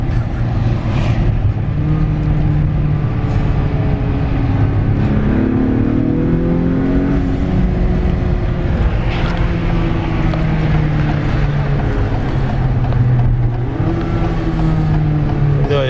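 A 2021 Acura RDX A-Spec engine fitted with an HPS intake revs steadily near and loud, holding high revs with rising and falling pitch sweeps under a constant broadband roar.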